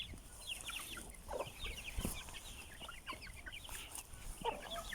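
Chickens cluck steadily while eating pasta, a flock of several birds close by with overlapping short calls and soft pecking sounds, moderately loud throughout with occasional brief knocks.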